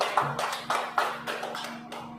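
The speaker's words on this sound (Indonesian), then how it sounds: "Tepuk tangan dulu." Applause from an audience at a school positive-culture dissemination session, a steady run of close, rhythmic hand claps over a faint steady hum.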